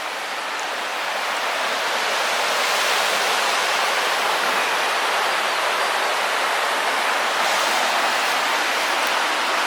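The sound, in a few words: roaring river water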